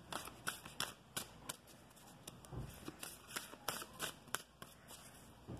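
Oracle cards are shuffled by hand nearby, a series of soft, quick riffling flutters and papery snaps that repeat in irregular bursts in a quiet room.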